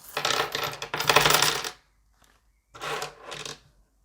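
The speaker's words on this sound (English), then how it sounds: "I've got a few coins." Handful of coins dropped and sorted by hand, two bursts of jingling metallic clinks close by, separated by a short pause, with no talk.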